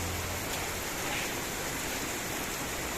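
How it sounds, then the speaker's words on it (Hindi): Heavy rain pours down, with part of it drumming on a rooftop overhead, a dense, loud, continuous hiss filling the whole stretch with no voices. "झमाझम बारिश हो रही है"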